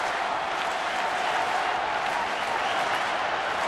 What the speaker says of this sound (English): You hear the chant.